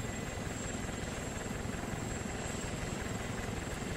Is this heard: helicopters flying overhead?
yes